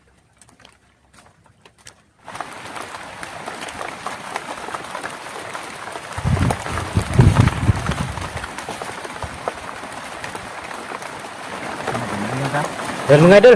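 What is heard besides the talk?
heavy rain falling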